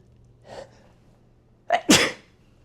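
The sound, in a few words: sneeze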